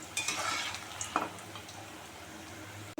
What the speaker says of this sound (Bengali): এই দেখো সুজি দিয়ে করেছি এগুলো ভালো করে ভেজে নেবো